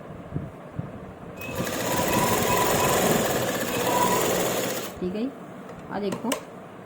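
A sewing machine stitches lace onto a kameez, a steady close whirring run of about four seconds that stops abruptly, followed by a few quiet handling taps and brief voice sounds.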